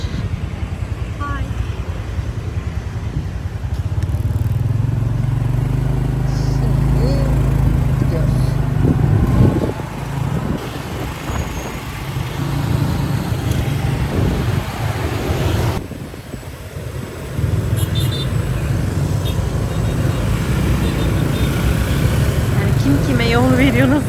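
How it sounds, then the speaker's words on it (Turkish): Motorbikes and other vehicles pass along a busy Vietnamese street, engines rising and fading near and far in continuous traffic noise with wind buffeting, while someone talks over much of it. "her yerden motor geliyor. Yani araçlar bir şekilde geçiyor"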